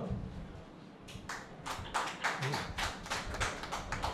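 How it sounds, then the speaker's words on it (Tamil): A few audience members at a Tamil talk event clap sparsely and unevenly, the claps faint and distant, starting after a quiet pause and continuing as scattered bursts. "ஒரு ரெண்டு மூணு தமிழர்கள் கைத்தட்டியிருக்காங்க"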